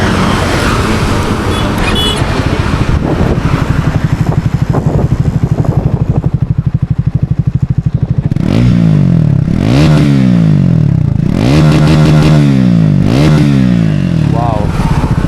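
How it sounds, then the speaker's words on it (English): A Triumph Speed 400 motorcycle's engine starts after a rapid starter clatter, settles briefly, then is revved several times, the exhaust note swelling and falling in loud, close pulses. "let's start the bike and give you a glimpse of the exhaust note."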